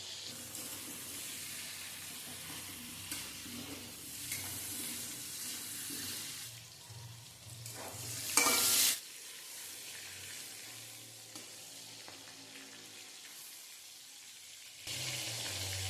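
Chopped pointed gourd fries in hot oil with turmeric powder and salt, giving a steady close sizzle throughout, with a brief louder hiss and crackle partway through.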